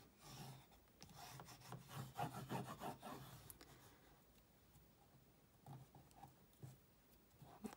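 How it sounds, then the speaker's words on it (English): Scraping rub of a burnishing tool pressing down paper on a papercraft gift card holder, a few seconds of close, soft friction strokes that fade to quiet handling noise. "And burnish that down."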